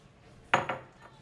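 A utensil strikes a dish while avocado and egg are squashed together, giving two sharp, close clinks in quick succession followed by a faint, fading tap in a quiet room.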